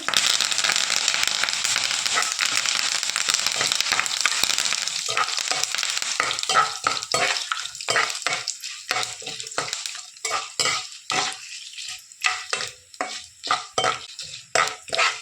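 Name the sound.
bay leaf, cinnamon, cloves, curry leaves frying in oil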